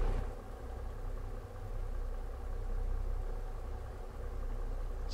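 Pickup truck engine with the engine brake engaged in American Truck Simulator, a steady low rumbling drone with slight rises and dips in loudness and no voices.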